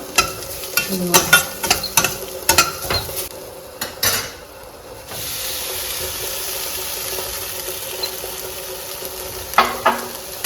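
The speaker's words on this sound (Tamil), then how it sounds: "இது நல்லா கிளறி கொடுக்கணுங்க" A spoon stirs flattened rice (aval) with grated coconut in a metal pan, scraping and clinking in uneven bursts near the mic, with a softer steady hiss of cooking between strokes.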